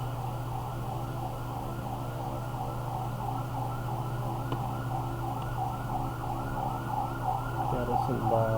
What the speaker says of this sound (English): there's an ambulance on the background if you can hear it.